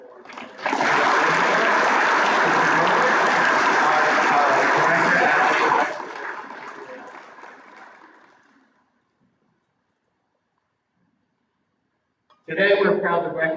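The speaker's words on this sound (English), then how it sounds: "Let's give one more round of applause for" Audience applause at a 2021 school bridge crossing ceremony, a loud dense burst of clapping that fades out over several seconds, followed by silence and then a voice starting to speak.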